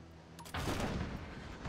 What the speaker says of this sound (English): I'll go man this cannon. Stop shooting my ship.